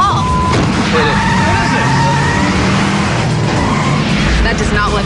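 A car speeds off hard with tires squealing and skidding, the engine loud and close. Voices shout over the screech and roar.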